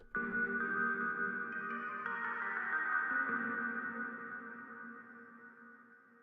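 A soft "Oldish Guitar" synth pluck preset with a worn, degraded, slightly lo-fi guitar-like tone rings out and slowly fades, played alone and fairly quiet.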